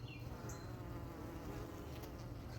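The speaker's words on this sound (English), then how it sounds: "we're getting some bees today. So we have a lovely home, and the bees are getting in right here." Honeybees buzz steadily at the brick-to-siding gap of a house wall in Pennsylvania, a close, continuous droning hum with no talk over it.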